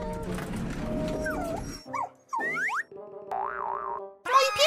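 Puppy whimpering in the video game Poppy Playtime Chapter 3, heard as a few short whiny yelps and cries between cartoonish sliding boing effects and musical tones, moderately loud and clear.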